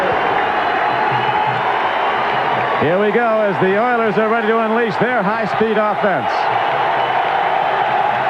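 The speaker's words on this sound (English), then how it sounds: "The Bills fans standing and cheering, trying to disrupt Moon" Buffalo Bills fans cheering in the stadium during a 1987 game against the Houston Oilers, a loud, steady crowd roar running throughout beneath a commentator's voice.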